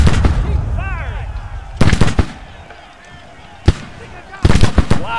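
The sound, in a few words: gunfire and artillery fire in Civil War video game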